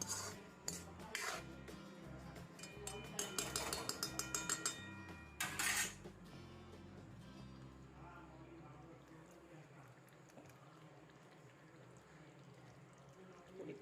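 A spoon scraping and clanking against a pan while soybean curry is stirred, with busy metallic clatter and sizzle in the first half, then quieter with a person talking over it.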